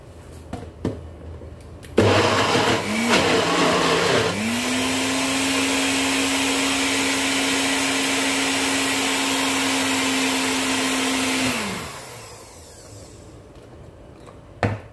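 A blender whirs as it blends chickpea hummus: a loud motor starts up in a few bursts, then runs at a steady high whine for several seconds before winding down.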